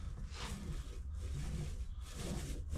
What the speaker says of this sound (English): get a top coat on it using a foam roller and finishing epoxy